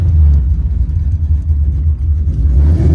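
Loud, close rumble from the aluminum-headed 355 V8 in a 1984 Chevrolet Monte Carlo, a deep steady idle with slight surges and a brief rise in revs near the end.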